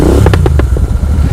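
Tuned Royal Enfield GT 650 twin pulling hard through the gears toward the fourth-gear limiter, a loud close engine drone with a few sharp crackles and pops over the steady roar.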